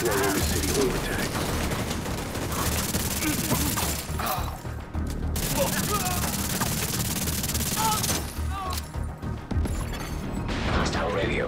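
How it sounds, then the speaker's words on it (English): Bursts of rapid video-game gunfire from The Division 2 crackle repeatedly amid dense background noise and clatter, with short lulls between the volleys. "I hear gunfire."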